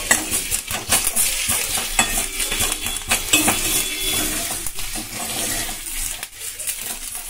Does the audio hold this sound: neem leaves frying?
yes